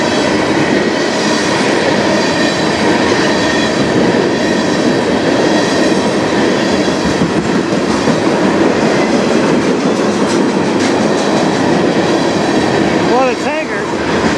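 A CN freight train of hoppers and tankers rolls past on the Strathroy Sub, a loud, continuous close rumble with rhythmic clickety-clack of wheels and brief squeals, wind buffeting throughout.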